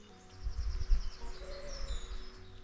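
Bird song in a spring woodland: faint high chirps and short warbled calls over a low rumbling outdoor background, several birds heard at a distance with no voices.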